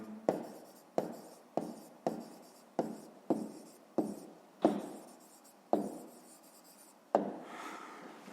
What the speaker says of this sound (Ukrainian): Тепер її, власне, і записуємо, пишемо відповідь.